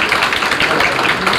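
An audience claps at a founding ceremony of an education forum at the UN Peace Memorial Hall after a children's stage performance. The applause is a steady, loud, dense wash of many hands, close and continuous.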